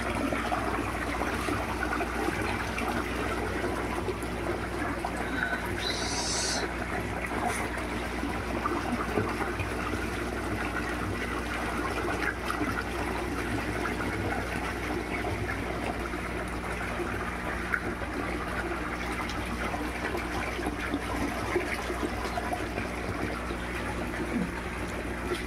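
Water runs steadily into freshly cleaned fish breeding tanks, giving a continuous, even trickling flow at moderate level with no talking.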